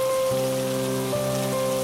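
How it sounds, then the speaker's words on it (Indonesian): Heavy midnight rain falling on a ship at sea, a dense steady hiss throughout with a sustained low tonal drone underneath. "Tengah malam, hujan turun sangat lebat."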